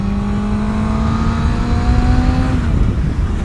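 A Honda CBR 600 F 600cc supersport motorcycle engine revs high and loud, a steady rising whine climbing over rushing road and wind noise, then easing off near the end.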